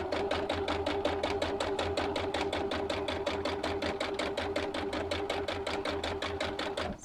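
A sewing machine stitching a blouse runs in a fast, even rhythm of needle strokes, steady and close for several seconds with no talking.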